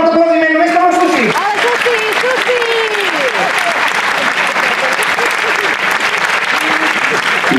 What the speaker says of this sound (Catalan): Crec que es mereix aquest fort aplaudiment, només per la Susi!